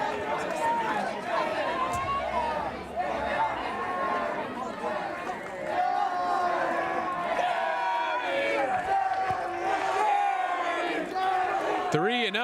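Spectators chant and shout together at a high school baseball game between Crescenta Valley and Arcadia, a rowdy crowd din running steadily with an announcer's voice over it.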